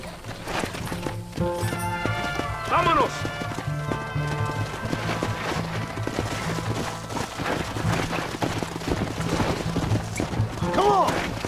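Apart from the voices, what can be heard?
horse galloping hooves in video game Red Dead Redemption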